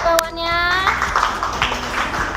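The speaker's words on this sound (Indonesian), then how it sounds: "Kasih tepuk tangan dulu untuk kawannya." A group of children in a classroom claps together in a brief burst of applause, following a short voiced call in Indonesian at the start.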